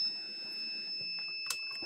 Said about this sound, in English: Sorry for the alarm.